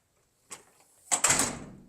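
A door opens or closes indoors, a soft knock or click followed by a louder rattling thud that quickly dies away, with no talking.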